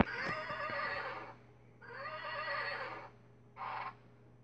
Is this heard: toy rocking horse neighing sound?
yes